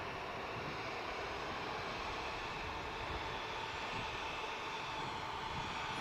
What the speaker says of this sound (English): on the taxi out is the Aer Lingus A321 Neo long range we saw earlier today